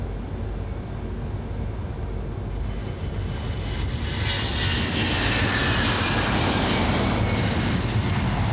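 Airbus jet engines run at takeoff power during the takeoff roll, a loud, continuous broadband roar that builds and brightens with a rising high whine as the aircraft accelerates, with no talk.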